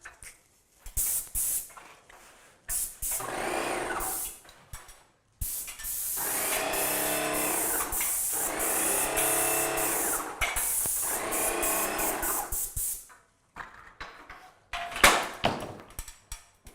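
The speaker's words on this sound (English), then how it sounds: "painting and cutting in these lines with a paint sprayer" A paint sprayer coats the walls of an old house under renovation in bursts of loud hissing spray, several long passes separated by brief pauses, with short spurts near the end.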